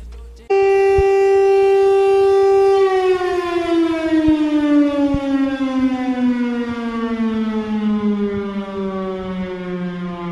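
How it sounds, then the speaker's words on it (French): A town's civil defense siren wails for a 9pm curfew, a loud sustained tone starting abruptly then slowly gliding downward in pitch over about ten seconds, steady and alone with no talk. "cette ville, sûrement nostalgique d'une certaine époque, elle avait décidé de faire sonner les sirènes pour faire comprendre aux gens qu'il fallait rentrer à 21h"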